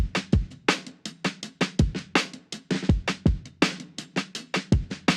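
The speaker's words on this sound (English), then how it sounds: "And with the drum bus, it sounds like this." Hip hop drum loop in Ableton Live 11 run through drum bus processing, with compression and a slightly softened top end: kicks, snares and hats keep a steady repeating groove that sounds glued together, with no voices.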